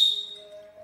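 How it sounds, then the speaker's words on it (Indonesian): A brief, thin tone from a two-in-one dog training whistle sounds softly, shifting to a lower steady pitch before trailing off, with no talking. "Jadi ini peluitnya."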